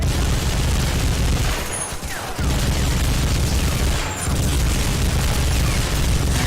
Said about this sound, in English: I don't think that's how the 30 cal should sound like